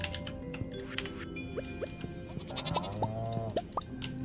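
A goat bleats in the farming video game Stardew Valley, with several short, rising synthesized bleats clustered near the end over soft game background sounds and small clicks, with no speech.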